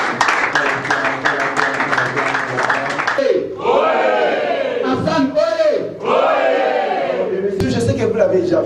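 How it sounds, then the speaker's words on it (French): A crowd at a foundation show cheers and acclaims a man as he approaches, first with rhythmic clapping and shouts, then with loud sustained chanting voices that rise and fall. "On l'acclame pendant qu'il s'approche."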